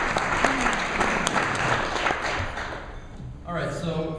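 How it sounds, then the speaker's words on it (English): Audience applause at a talk on blog marketing, a dense burst of many hands clapping that thins toward the end, with a little chatter mixed in. "So everyone gives a round of applause for Janet and Sharon."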